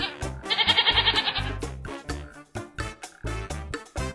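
A goat bleats in a wavering, quavering cry over a rhythmic musical backing, with the bleat standing out loud near the start among other pulsing sounds.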